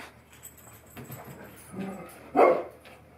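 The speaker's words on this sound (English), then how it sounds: "My dogs are about to bark because somebody's across the street." Dogs bark at someone across the street, a single loud bark burst standing out late in an otherwise quiet indoor stretch, with faint earlier yips or whimpers.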